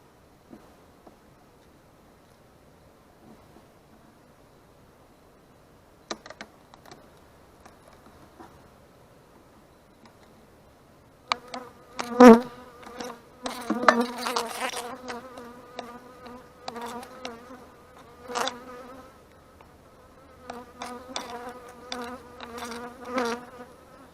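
Honey bees buzz around an open hive, a faint drone at first that swells into a dense, close, fluctuating hum with bees zipping past, mixed with soft taps and rustles of the hive frames.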